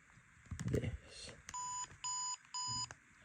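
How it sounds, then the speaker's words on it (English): Doctor Who Deluxe Fifteenth Doctor sonic screwdriver toy giving three evenly spaced electronic beeps, each a steady tone lasting about a third of a second, preceded by clicking and handling noise of the toy being opened. "and it beeps 3 times."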